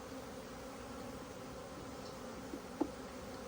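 A soft, steady buzzing of honeybees during installation of a package into a hive hums throughout, low and continuous, with a brief faint tap near the end.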